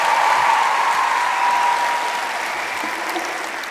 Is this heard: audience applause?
yes